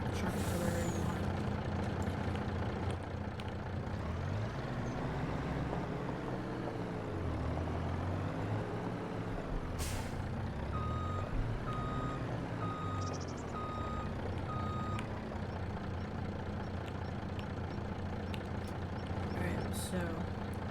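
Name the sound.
truck reversing with reversing beeps in Farming Simulator 25 video game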